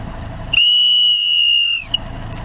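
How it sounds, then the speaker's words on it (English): A whistle aboard a small boat on Lake Huron gives one loud, sustained blast of about a second and a half, clear and close over faint background noise. "Notice that time I used the whistle."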